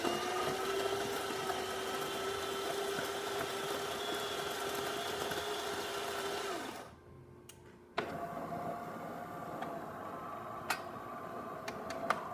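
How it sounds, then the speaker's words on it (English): DeLonghi espresso machine pumping a shot of espresso, a steady buzzing, ticking pump drone with tonal whine that cuts out briefly partway, then resumes with clicks. "Coffee coming out of the spout, good water flow, good color."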